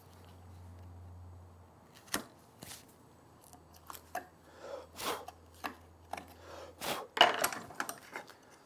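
A hand tool pares a wooden dovetail pin down to the cut line, producing a series of crisp, close chopping and slicing taps at irregular intervals, growing firmer toward the end.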